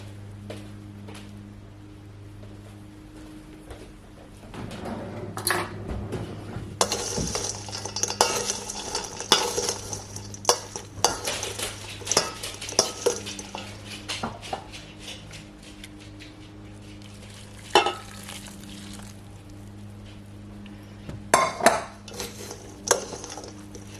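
Spoon stirring cornbread stuffing as hot broth mixture is worked in, a steady moist scraping and clinking against the pan at close range, with quiet background hum and occasional sharper knocks.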